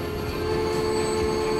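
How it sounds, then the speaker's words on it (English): A train in the Transport Fever video game rolls into a station with a steady rumbling rail drone and sustained whining tones, moderately loud and continuous without voices. "Okay, train number three has arrived."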